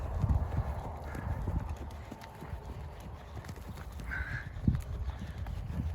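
A horse's hooves clip-clop on the ground at an uneven walking pace during a first ride in training, with a faint whinny and a person talking nearby.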